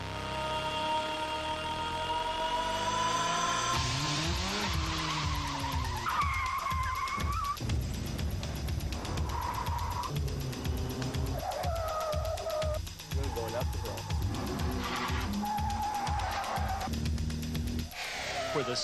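Saab race cars of the Xerox Saab Pro Series scream past at Lime Rock in 1993. Loud engines rise and fall in pitch as they pass, and tires squeal, in a dense, continuous roar.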